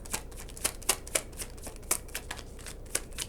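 A deck of tarot cards is shuffled and drawn, giving crisp, close riffling snaps and papery slaps in an irregular rhythm, with no talking.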